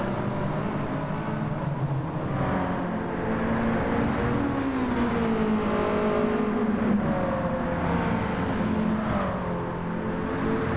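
Race cars including a BMW E30 M3, a Toyota pickup and a Honda Integra lapping Suzuka circuit in a closely matched race, engines droning and revving steadily and loudly throughout with shifting pitch as cars run nose to tail.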